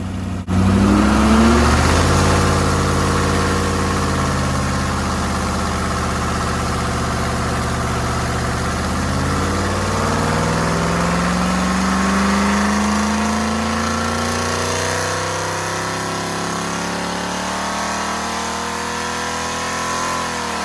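A Rover P6 3500 V8 engine runs hard on a dyno in an enclosed test cell, loud and continuous, its pitch climbing through sweeping rev ranges and falling back over about twenty seconds.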